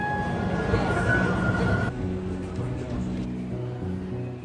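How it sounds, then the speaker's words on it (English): Inside a Melbourne tram, a steady rumbling ride noise fills the space, with a tonal whine fading partway through and low mechanical hum continuing, moderately loud and close. "It's time to hop on a tram back to Melbourne Central and head home."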